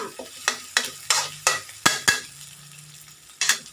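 Chicken offal stir-fried in a pan, a run of rhythmic scraping strokes of a spatula over a faint sizzle, with a short pause before a final pair of strokes, loud and close with no talking.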